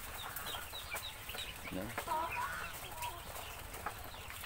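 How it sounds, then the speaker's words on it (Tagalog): Chickens clucking in an outdoor pen with ducklings nearby, soft repeated clucks and chirps close by, with a person speaking briefly over them. "Pero makulit tong mga manok ko."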